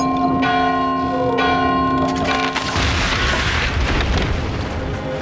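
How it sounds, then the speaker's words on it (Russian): A church bell tolls in Valiant Hearts: The Great War, a World War I game, with two loud ringing strikes whose tones hang, then a heavy booming crash and rumble takes over and fills the rest. "Видал, что колокол всемогущий делает?"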